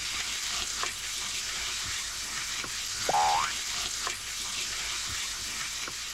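Vegetables stir-fry in a pan with a steady close sizzle, broken by a few light clicks of utensils and a brief squeaky scrape midway.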